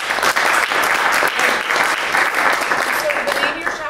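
Audience applause fills a trumpet masterclass hall, steady dense clapping throughout at close, loud level with no break.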